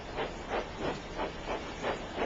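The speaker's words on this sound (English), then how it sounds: "When Thomas stops, he wheeshes steam" A steam engine gives off steady, rhythmic puffs of hissing steam, about five even surges over a constant breathy wash, fairly close with no talking.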